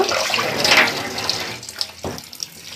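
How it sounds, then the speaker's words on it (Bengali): Flour dough squeezed and washed in cold water, a continuous close splashing and sloshing of water with small squelches and one sharp knock near the end. "ডোটা আমি এভাবে চেপে চেপে কয়েকবার ধুয়ে নিব"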